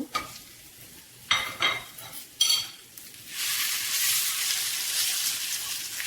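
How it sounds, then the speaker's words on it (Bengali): Boiled lentils being stirred with dried chillies and onion in a pan: a few scraping, clattering strokes of a utensil against the pan, then a steady sizzling hiss that continues to the end, no speech. "একসাথে ভালো করে মিশিয়ে নেব ডালের সঙ্গে"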